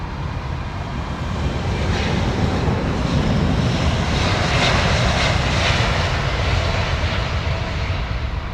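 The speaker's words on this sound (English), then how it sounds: "I think El Al's Dreamliner." Jet engines of an El Al Boeing 787 Dreamliner at Heathrow, a steady loud broadband roar holding level throughout with some wind buffeting, no voices.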